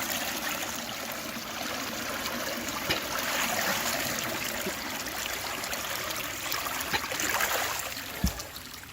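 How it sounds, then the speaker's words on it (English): Floodwater from a swollen creek pours steadily into a leaf-clogged drain grate, a constant rushing, trickling wash close by with a few sharp knocks and splashes and no one talking. "more leaves keep flowing down the stream and clogging up the grate"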